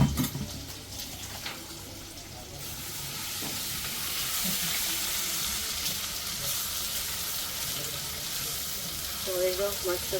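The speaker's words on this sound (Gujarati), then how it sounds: "શેકાઈ ગયું હમ એકદમ તરત જ ગોલ્ડન બ્રાઉન કલર આવી ગયો છે" Ingredients for soybean biryani sizzle and fry steadily in a hot pan with crushed garlic and ginger, a loud continuous crackle close up with occasional stirring clatter.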